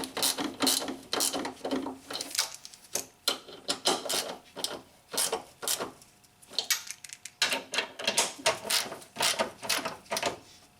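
A hand ratchet clicks in rapid bursts while engine mount bolts on a 2007 Nissan Altima are snugged up, loud and close, with short pauses between runs of dense clicking.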